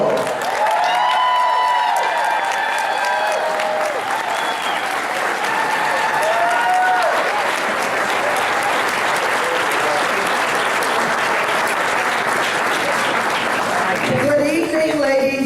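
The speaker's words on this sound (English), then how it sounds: "everybody needs to stand up and give a round of applause for Congresswoman" Loud, sustained applause from an audience at an African American Caucus meeting, filling the hall steadily for the whole stretch and tapering near the end as voices come through.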